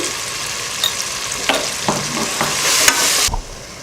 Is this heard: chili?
yes